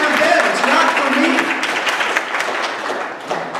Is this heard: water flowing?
no